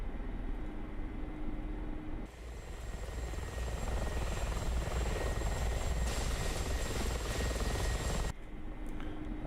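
Simulated Mi-24P Hind attack helicopter in DCS World, a steady loud rotor and turbine drone with a constant whine, the engine note swelling brighter midway before dropping back, no talking.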